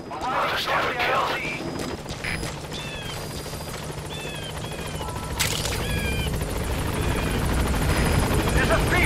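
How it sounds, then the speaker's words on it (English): Extraction helicopter arriving in the video game Metal Gear Solid 5, a loud continuous rotor thump and engine roar building closer, with game beeps, bursts of gunfire and voices talking over it. "I'll send the extraction chopper."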